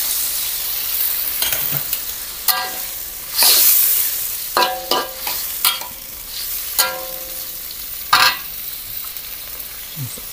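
Beef stir-fry sizzling and frying in a pan after a splash of water, a steady hiss broken by loud spitting pops and stirring scrapes throughout.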